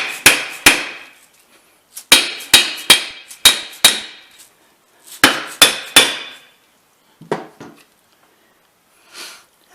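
A part being hammered into a Hummer H1 gear hub until it bottoms out: sharp metallic hammer strikes in quick clusters of two to four, loud and close, with short pauses and softer taps toward the end.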